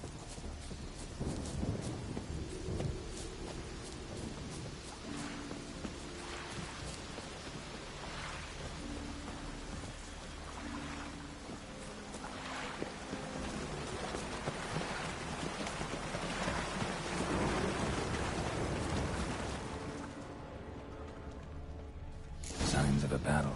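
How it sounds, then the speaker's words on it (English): Thunderstorm in the video game The Witcher 3, with steady rain hiss and low rolling rumbles throughout, rhythmic hoof clops beneath, a voice speaking briefly, and a sharp loud crack at the very end. "Storm, damn it."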